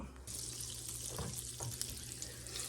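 Butter and olive oil heating in a pan, giving a steady soft sizzle with faint crackles, close but low in level.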